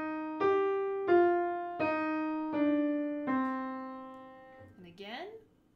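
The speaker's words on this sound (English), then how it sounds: "the second one is a minor triad with a descending scale" A single voice sings a minor triad followed by a descending scale as a vocal exercise, with clear sustained notes stepping downward one at a time and ending in a short sliding tail.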